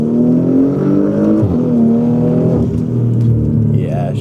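Porsche Macan Turbo with an upgraded 2.9L V6 pulling hard at high RPM, a loud continuous engine drone rising in pitch through the gears with a shift dip, heard from inside the car.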